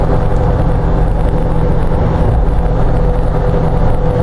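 Steady low drone of an LS-swapped Jeep JK with a 6L80 transmission cruising uphill in 6th gear at low RPM, an even, loud engine and road hum with no change in pitch or any voices.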